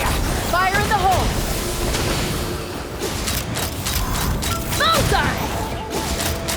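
Gunfire and explosions in a battle scene from the video game Genshin Impact, a dense roar of blasts with a few sharper bursts, running steadily under loud, excited voices throughout.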